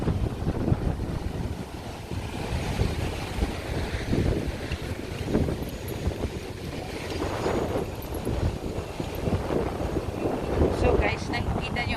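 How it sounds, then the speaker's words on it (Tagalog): Strong wind buffets the microphone at Maspalomas, Gran Canaria, with big surf roaring continuously underneath, loud and close for the whole stretch, a voice talking faintly beneath the gusts. "So guys, nakikita nyo medyo masyadong mahangin talaga dito today"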